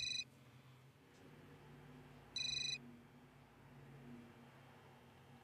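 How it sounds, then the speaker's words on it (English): Phone ringing indoors, two short electronic ring bursts a couple of seconds apart over a low background hum, with no talking. "You know how to answer the phone, right?"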